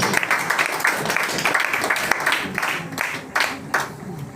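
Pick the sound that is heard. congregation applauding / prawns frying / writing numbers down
congregation applauding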